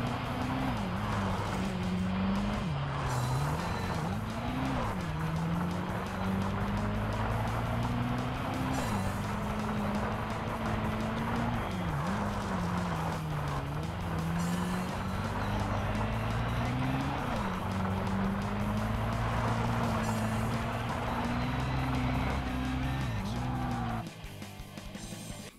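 Race cars in Tokyo Xtreme Racer: Drift 2, a continuous loud engine drone that rises and falls with gear changes and throttle, sustained throughout and cutting off abruptly near the end.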